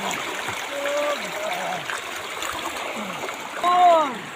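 Strong current of a clear lahar river where people swim, a steady rushing and trickling wash with voices talking over it and a brief louder splash near the end.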